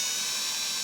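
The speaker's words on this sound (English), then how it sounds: "First, we need to drill these out again" A small drill bores gently into holes in wooden parts of a classical guitar being built in a luthier's workshop, giving a brief, steady high-pitched whir with no talking.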